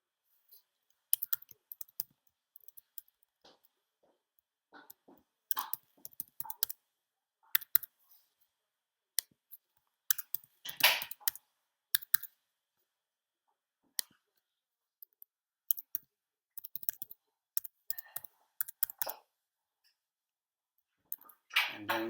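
Computer keyboard typed on in short scattered bursts of quick, quiet clicks with gaps between, close by and with no talking, as an account is registered.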